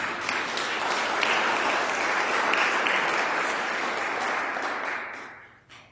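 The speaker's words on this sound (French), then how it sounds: "Je pense qu'il mérite une bonne main d'applaudissement." Warm, full applause from a church congregation for the choir at a Palm Sunday Mass, steady and sustained before fading out abruptly near the end.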